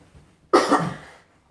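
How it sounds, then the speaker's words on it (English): A single loud cough close to a microphone, one sharp burst that trails off over about half a second, alone in a quiet room. "I'm not able to mute my microphone, so I'm about to cough"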